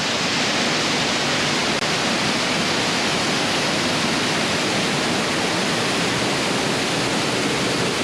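Ranger Falls at Savage Gulf State Park pours into a cavern, making a loud, steady, broadband roar of falling water that stays constant throughout with no voices.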